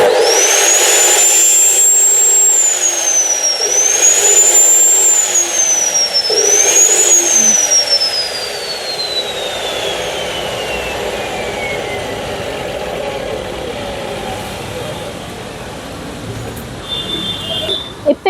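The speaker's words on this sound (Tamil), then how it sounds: "இப்போ போஸ் கட் ஆஃப்ஸா எப்படி ஒர்க் பண்றதுன்னு நம்ம பார்க்க போறோங்க" A Bosch GCO 220 14-inch cut-off machine runs with a loud high-pitched motor whine that dips and recovers twice under load, then gradually winds down in pitch as the blade spins down.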